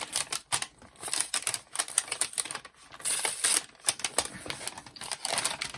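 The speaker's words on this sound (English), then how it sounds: "Let's see if we can peel it off and take a further look at it" Packaging is peeled off a ritual kit from a Witch Casket UK subscription box, making a continuous close crackling, crinkling rustle with bursts of sharper tearing and no talking.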